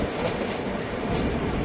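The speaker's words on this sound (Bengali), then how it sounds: "আমাদের ট্রেন মালদা টাউন ঢুকছে" Humsafar Express train rolling into Malda Town station, a continuous close rumble with rhythmic wheel clatter along the rails.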